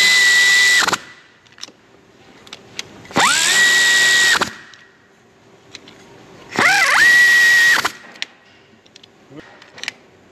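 A power tool running bolts into a drive shaft safety spacer on a 2023 AWD Mercedes-Benz, loud and close, in three separate whirring bursts of a second or so each, with a pitch that rises as each run spins up.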